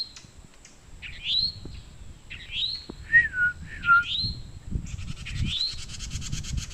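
Several bright whistled wren calls ring out in short rising and falling phrases, clear and fairly close in quiet woodland, separated by pauses, with a thin buzzy trill near the end and soft low rustling underneath.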